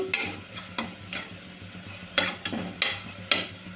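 Onions stirred and fried in oil for a green peas curry, a spoon scraping the pan in repeated sharp strokes over a steady low sizzle, fairly close and with no talking.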